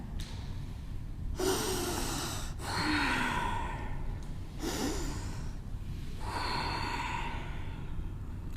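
Slow, deep breaths during a yoga flow, several long audible inhales and sighing exhales close to the microphone, each lasting about a second with quiet gaps in between.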